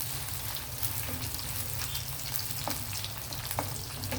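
Dried fish hisses and sizzles steadily in hot oil in a pan, a dense, even frying crackle with a few small pops and no voices.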